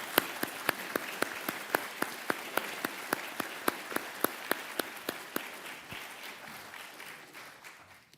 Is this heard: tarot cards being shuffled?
no